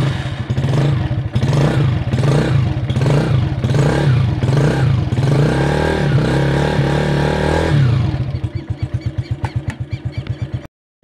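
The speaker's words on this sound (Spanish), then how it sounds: "Vamos a hacer que caliente un poco la moto antes de arrancar el viaje." A motorcycle engine idles and warms up before a ride, with a loud, rhythmic, pulsing throb and surging revs. Near the end the engine drops to a slower chugging beat and then cuts off abruptly.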